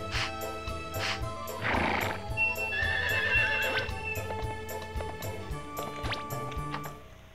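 The horse Tatsuki in Harvest Moon 64 gives a bright neigh amid a looping melodic game tune, with steady hoof clops ticking along underneath.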